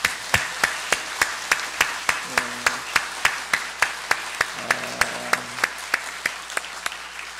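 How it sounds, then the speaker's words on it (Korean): A church congregation applauds after a choir hymn at an Easter Sunday service. The claps come in unison with a crisp, steady rhythm, repeating evenly for several seconds over a faint hum in the sanctuary. "그럼 박수로 한번 듣겠습니다."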